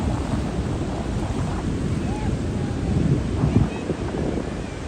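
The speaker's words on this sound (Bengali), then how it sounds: "এবার লাগিয়েছে এই বিশাল একটা ঢেউ চলে এসেছে" Big ocean waves roll and break on Cox's Bazar beach in the rainy season, a steady roar of surf and wind that swells into a louder crash near the end.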